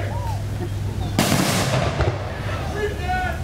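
Rifle volley fired at a Memorial Day ceremony by a VFW post in Martin County, Florida: one loud sharp crack outdoors, echoing briefly, with a second lighter report, amid background crowd murmur.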